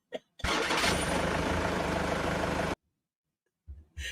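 A played sound effect of a bus engine starting: a sudden loud cranking roar that runs steadily for about two seconds, then cuts off to silence before brief noises return.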